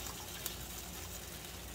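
Water pours steadily into a cooking pan for pepper steak and rice, a continuous broadband gush at moderate level with no talk over it.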